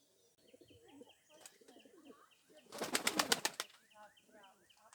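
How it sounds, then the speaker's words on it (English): Carrier pigeons coo softly in low, rolling calls close by, with a burst of rapid wing flapping in the middle and chirps among the coos. "carrier pigeons. They're way bigger than I thought they were"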